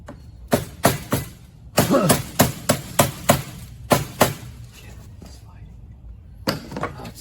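A hammer strikes metal parts while a Sun Baja trike is being rebuilt, landing in sharp, irregular clusters of loud blows with pauses between them.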